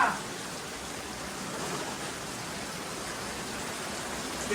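Steady rain falls as a continuous even hiss, moderately loud and unbroken from start to finish, with no talking.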